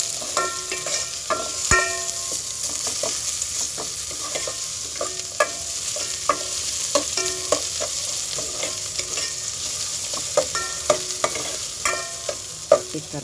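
Garlic and then onion sautéed in a pan for ginisang mongo, a steady oily sizzle with frequent clinks and scrapes of a utensil stirring against the pan, no voices.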